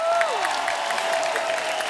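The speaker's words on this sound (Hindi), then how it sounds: "निकिता के लिए एक बार जोरदार ताली।" Studio audience applause at a Hindi comedy show runs as a short, steady patter of clapping, with a sustained musical tone sounding over it.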